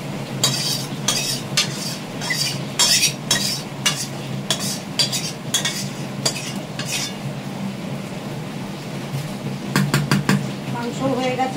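Mutton and duck eggs being stirred and fried in a pan, with repeated scraping and clinking strokes of a utensil over a steady sizzle, close and fairly loud.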